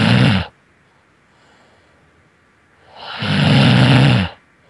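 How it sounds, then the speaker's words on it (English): Two loud, close snores, one long rasping inhale at the start and another about three seconds later, with near silence between them. "Biddy, snore like Macho Man Randy Savage"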